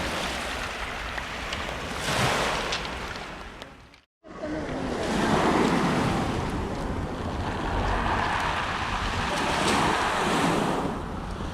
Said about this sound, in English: Beaches in the Mediterranean, unlike those by the ocean, are usually more rocky and sound different